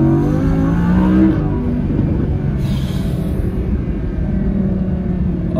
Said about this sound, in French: Première accélération Petrolhead, je suis en manuel, dynamique, pied au plancher première.